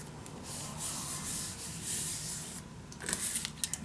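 Steady dry rubbing of a tool burnishing paper down onto a mini scrapbook album, a continuous close scraping that breaks into a few short, sharper strokes near the end.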